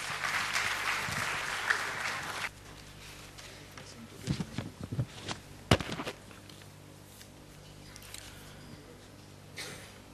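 Applause for a treasurer at an annual convention in Mumbai, India: a burst of clapping that stops after a couple of seconds, then a quieter room with scattered thuds, shuffling and faint voices.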